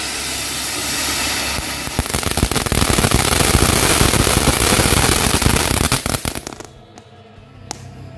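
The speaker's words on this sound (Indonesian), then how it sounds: "Selanjutnya kita nyalain mercon silinder fountain teman-teman." A cylinder firework fountain roars with a dense, crackling hiss that swells loudly for several seconds, then cuts off abruptly into quiet outdoor background at night.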